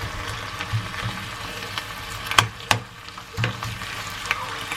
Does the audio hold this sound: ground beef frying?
yes